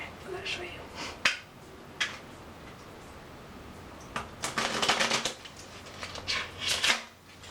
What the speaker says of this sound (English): I'm going to shuffle them